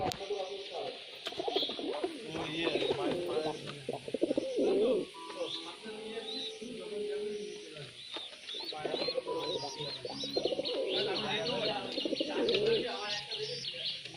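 Green Eyes Kalduma pigeons coo repeatedly at close range, soft throaty calls with a few chirps mixed in, while someone talks over them throughout.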